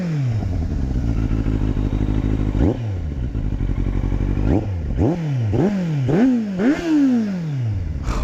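Kawasaki Z800 motorcycle engine rumbling at idle, then blipped through a series of sharp, loud revs that climb and fall back in quick succession, close up with no talking.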